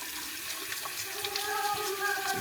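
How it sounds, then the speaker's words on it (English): Espresso machine parts are rinsed under a running tap in a sink: a steady, close splashing hiss of water with small gurgles, heard alone and fairly quiet. "Let's wash this quick."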